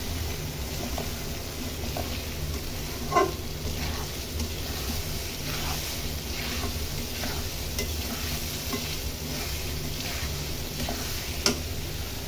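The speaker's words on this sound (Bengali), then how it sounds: "চিংড়ি মাছ মশলার ভিতর দিয়ে কষিয়ে নিব।" Shrimp cooking down in a spice masala for a shrimp malai curry, with a steady close sizzle and periodic spatula scrapes and stirs across the pan throughout; no talking.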